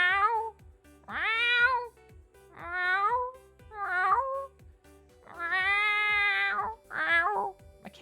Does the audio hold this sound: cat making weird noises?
yes